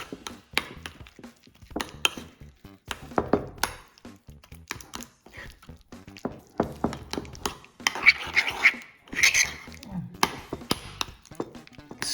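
Room-temperature butter is worked in a bowl, heard as irregular close knocks, scrapes and clinks of a utensil against the bowl, continuing in uneven bursts with no talk.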